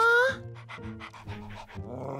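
Dog panting close by in a quick, rhythmic series of breathy huffs after a short high voice-like sound at the start, fairly quiet.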